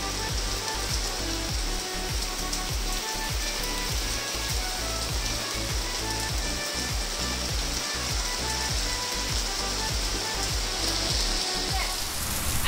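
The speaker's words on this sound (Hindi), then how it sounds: "बाहर बारिश हो रही है" Heavy rain falls outside in a dense, unbroken hiss of drops on surfaces, steady and loud from start to finish.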